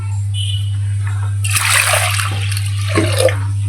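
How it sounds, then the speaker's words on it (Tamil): Water is poured into a pot of lentils, a splashing gush that starts after a moment and runs for about two seconds, over a steady low hum. "இப்போ பருப்பு தேவையான அளவுக்கு தண்ணி ஊற்றிக்கலாம்"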